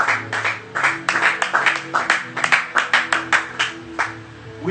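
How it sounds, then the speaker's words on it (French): A church congregation claps together in a rhythmic, fairly close burst of applause, steady beats repeating for several seconds with little cheering audible. "Acclamons très fort."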